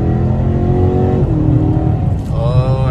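Ford Mustang and Dodge Challenger engines rev hard while racing at a Roblox-style meet with new mods, a loud continuous throaty roar that shifts pitch and surges again near the end.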